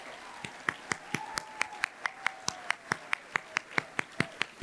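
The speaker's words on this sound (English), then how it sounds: "let's give a round of applause for them working so hard getting you all seated" Audience at the Nanaimo Women of Influence Awards clapping in a steady, sparse rhythm, with individual claps sounding distinct and moderately close over a quiet room.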